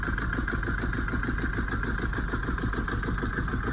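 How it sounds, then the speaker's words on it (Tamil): A Mahindra Xylo engine with a blown head gasket runs steadily up close, its idle carrying a rapid rhythmic chuffing pulse as compression escapes, loud and continuous throughout with no talking. "எவ்வளோ கம்ப்ரஷன் கேஸ் எஸ்கேப் ஆகுது பாருங்கள்."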